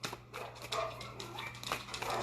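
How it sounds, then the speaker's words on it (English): Several dogs bark around a neighborhood, faint and distant, with scattered yaps over a quiet background hum. "all the dogs in the neighborhood are going nuts right now"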